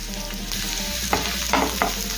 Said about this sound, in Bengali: কিছুক্ষণ সময় নেড়ে নেড়ে ছেড়ে ভেজে নেব